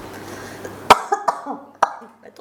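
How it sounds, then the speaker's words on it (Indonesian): A woman coughs several times in a room, sharp separate bursts spaced unevenly over a couple of seconds, the first the loudest, with faint murmuring before them. "Batuk, minum dulu"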